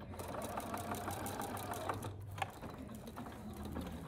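Sewing machine running a quarter-inch seam on quilt binding, an even close whirring hum with quick rhythmic needle clatter continuing throughout.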